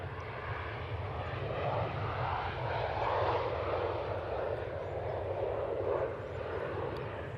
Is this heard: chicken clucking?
no